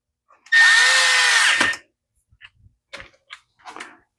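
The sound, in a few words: power driver tightening screws on Echo SRM210 trimmer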